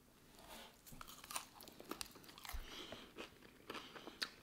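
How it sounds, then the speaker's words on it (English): Deep-fried crispy onion strings with garlic mayo, bitten and chewed close to the mic: a run of crisp crunches and chewing sounds, faint and without talk. "Let's try the onion strings. Deep fried crispy onion strings."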